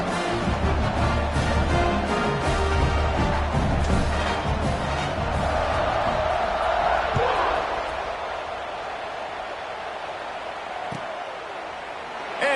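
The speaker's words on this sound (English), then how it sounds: "this crowd is buzzing after that last score" A football stadium crowd keeps up a loud, broad roar after a Northwestern touchdown. The roar settles into a lower, steady murmur partway through, with no talking over it.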